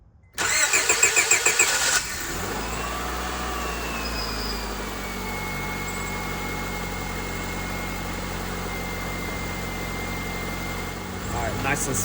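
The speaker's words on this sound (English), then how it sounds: "first startup since doing the head gasket swap" A 2004 Honda Civic EX engine, freshly fitted with a new head gasket, cranks with a rapid starter whir, catches, then settles into a steady, smooth idle, close and fairly loud.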